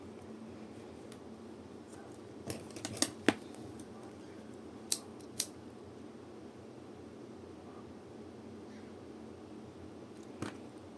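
Scissors snipping through crochet yarn while finishing a crocheted bag, a few short, sharp, close cuts spread across a quiet background, with a couple of clustered snips near the start and a final faint snip later.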